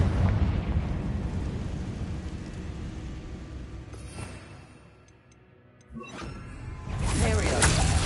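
Blasts from spells in the Hogwarts Legacy video game burst and roar loudly, fade to a quiet lull, then erupt again in a bright crackling explosion toward the end.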